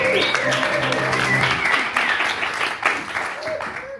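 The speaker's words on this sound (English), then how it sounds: "How about a big round of applause for these great men?" An audience claps loudly, a dense burst of applause that carries mixed voices and cheering, tapering slightly toward the end.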